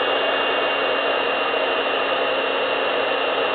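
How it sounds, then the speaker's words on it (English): A heat gun warms a faux metal tin ceiling panel with a constant, loud, close airy roar that stays even from start to finish, with no talking. "Now I'm going to take my heat gun. Now this is probably going to be noisy, but I'm going to heat this up."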